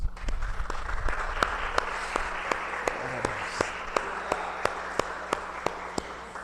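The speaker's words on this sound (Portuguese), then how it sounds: "E aplauda o Senhor, irmãos." A church congregation claps in a steady, even rhythm, a sustained run of regular beats in a reverberant hall.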